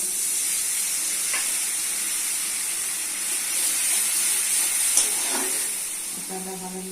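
Ground turmeric, chili, coriander and cumin with a splash of water sautéing in a pan, a steady close hiss and sizzle with a few faint clinks from stirring.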